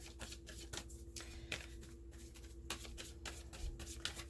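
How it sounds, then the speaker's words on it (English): Tarot cards are shuffled in quick riffling bursts, close and soft, with brief pauses between passes and no talking. "Let's give it a good shuffle."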